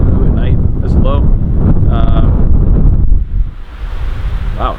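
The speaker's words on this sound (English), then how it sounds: "Wow, it's windy." Strong wind buffeting a microphone on the Kalalau Trail along Kauai's Napali Coast, a loud continuous rumbling roar with gusts that swell and ease, a voice speaking briefly over it.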